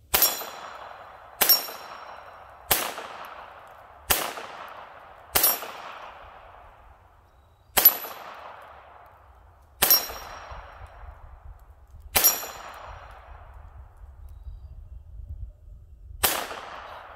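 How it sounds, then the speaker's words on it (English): Pistol shots hit a steel dueling tree at 10 yards, giving nine sharp, ringing metallic clangs at uneven intervals. Each clang fades out, with a faint low rumble underneath. "let's load this guy up and see if I can hit that dueling tree"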